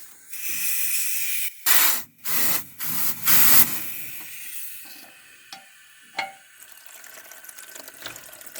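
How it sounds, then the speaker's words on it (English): Bursts of loud hissing compressed air blow through a heavy-equipment fuel line, several strong blasts then weakening puffs and fainter sputters. "I'm going to spray air through it."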